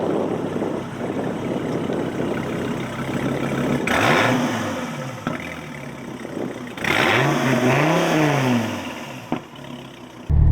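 A 2014 Dodge Viper GTS with its V10 idles with a rough clatter, then is revved hard twice, each loud vroom rising and falling back to idle, close by and without talk.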